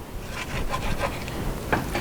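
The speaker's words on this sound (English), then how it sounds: "See if I can stir it around and unstick it" Food being stirred in a pot that has started sticking to the bottom while making pork burrito with Mexican rice and black beans, a close, continuous scraping rub with a few firmer strokes.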